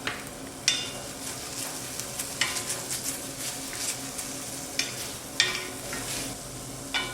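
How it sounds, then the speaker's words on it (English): Chopped onions sautéing in a pan with garlic and soft, mushy tomato chunks for a curry gravy, a steady close sizzle broken by occasional clinks and scrapes of a stirring spoon against the pan. "Then I added chopped onions and sauteed them."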